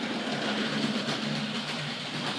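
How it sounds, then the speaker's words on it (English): A Hornby Dublo GWR 0-6-2 model tank locomotive runs along its track with a steady rumbling whir and faint rhythmic clicking, close and continuous throughout. "we'll get the Dublo locomotive underway"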